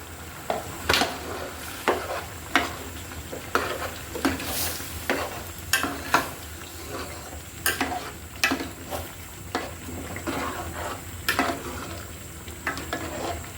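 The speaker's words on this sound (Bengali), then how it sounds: "ডালগুলোকে কিন্তু ভালো করে মশলার সাথে, মাংসের সাথে ভালো করে মিশিয়ে নিতে হবে।" Mung dal is stirred with spiced chicken gizzards and liver in a pan: close, rhythmic scrapes and knocks of a utensil over a steady frying sizzle.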